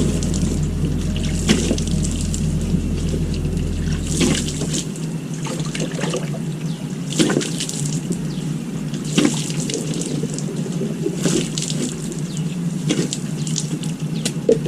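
Water flows steadily at a sendang, a natural spring on a mountain trail, making a continuous close splashing trickle with small bubbling surges, and a low hum under it at the start.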